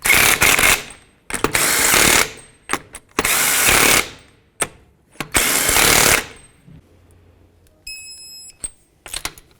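Impact wrench or power drill snugging the wheel lug nuts on a 2003-2007 Nissan Murano, with three long loud buzzing bursts and several short clicks and taps in between, close and up front.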